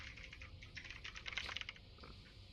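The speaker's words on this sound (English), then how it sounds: "Oh, you like the keyboard sounds?" Rapid keystrokes on a computer keyboard, a steady run of close clicks and clacks that thickens into a dense burst midway and then thins out, with no talk over it.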